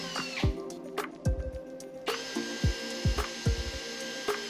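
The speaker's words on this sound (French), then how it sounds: "Percez quelques trous, on travaille ici." A drill pre-drills holes in wood near the edge of a board, its motor whining steadily up close while short knocks and thuds of the bit and workpiece punctuate the sound.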